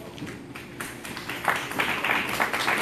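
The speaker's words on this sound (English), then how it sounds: "you can clap for him, that's an achievement" An audience at a youth poetry event in a school hall claps for an author. The applause is a fairly faint, diffuse spatter of many hands that swells toward the end, with some crowd noise mixed in.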